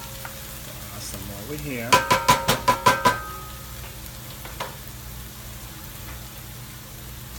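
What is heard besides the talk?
sofrito sizzling in basting oil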